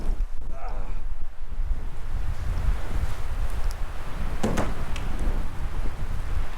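Strong howling wind sweeping across a snowy wilderness during a cold hike, a steady broadband roar with gusts and rustling that persists throughout, with brief faint sounds of movement.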